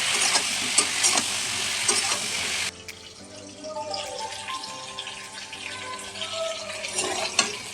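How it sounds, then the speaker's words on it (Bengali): Cauliflower fries in a pan with salt and turmeric, a loud bright sizzle that drops suddenly to a softer crackle as stirring and clatter continue. "নুন আর হলুদ দিয়ে ফুলকপিটা আমি আগে ভেজে নেব।"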